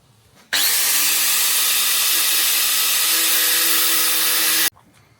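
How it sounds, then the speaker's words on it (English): An angle grinder cuts a small slot into a metal part during a water pump and belt tensioner job on a Mercedes W124 230, starting abruptly with a loud, even, high whine that holds for about four seconds before cutting off sharply. "I'm gonna grind a little slot into there."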